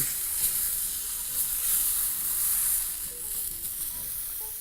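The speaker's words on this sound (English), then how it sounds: "We're just going to proceed to fry this until we get a nice, even color all around" Bacon-wrapped beef sears in a very hot pan, a dense, even sizzle with a hissing high edge that holds steady for several seconds at close range, with slight swells as the meat is moved and no voices.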